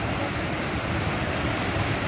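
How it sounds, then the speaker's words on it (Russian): A waterfall roars in a steady, dense wash of broadband rushing water, loud and continuous with no pauses or voices over it. "О, какой водопад."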